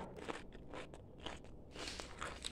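Crisp crunching bites into a fried turon, a banana roll made with large saba bananas, several close crackling crunches in quick succession with no talk.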